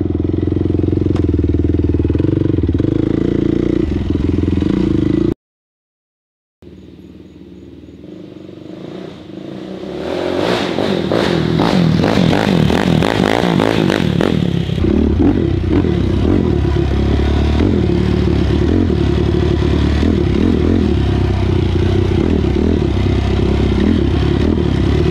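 A Yamaha YFZ 450R ATV built for cross-country with a Dasa exhaust and Vortex ECU rides along toward a lake, engine loud and close, revving and accelerating, with clatter and thumps over rough ground after a brief dropout.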